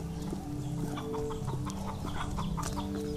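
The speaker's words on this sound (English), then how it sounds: "Hey, little chickens." Chickens clucking close by, a dense overlapping chorus of short clucks and murmurs from several birds, steady and fairly loud throughout.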